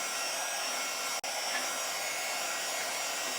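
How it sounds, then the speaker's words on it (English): A hair dryer blows steadily and close, a constant airy whoosh with one brief dropout early on before it resumes evenly. "I'm gonna blow dry this a little and talk over you"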